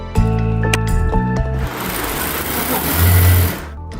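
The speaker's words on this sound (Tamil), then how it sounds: "இதில் சித்ரா போன்ற பல பெண்கள் சென்சார் தொழில்நுட்பத்தை கொண்ட தையல் இயந்திரங்கள் மூலம் வேலை செய்கிறார்கள்" Sensor-based sewing machines running in a women's workshop, a loud continuous mechanical whir with shifting motor tones and steady rattling throughout.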